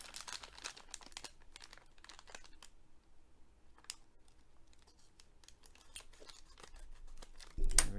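Packaging of robot kit parts being opened, faint scattered crinkles, rustles and small tearing clicks in quick irregular bursts, quiet and close, ending with a brief louder thump.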